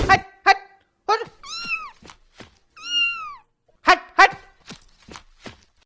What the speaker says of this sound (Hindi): ये बिल्ली कहाँ से आ गया